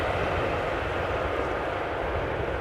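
Airplanes at Amsterdam Schiphol Airport produce a continuous broad jet-engine roar, loud and steady throughout with no talking.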